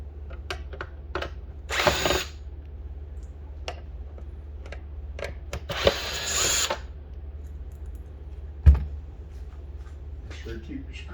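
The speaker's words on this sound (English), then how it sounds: "first thing you want to do is go ahead and remove these screws." Power drill or driver backing screws out of a car headlight assembly, with short loud whirring bursts separated by quieter clicks and handling noise.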